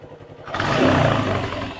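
A motorcycle engine catches after about half a second of quiet rumble, then runs loud and close with a rough, uneven idle for the rest of the moment.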